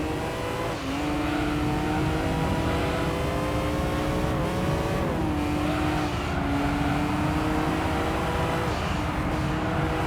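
An 800-plus horsepower race car in Gran Turismo 3 roars at high revs throughout, its engine note climbing and dropping sharply at each gear shift, loud, close and continuous with no talk.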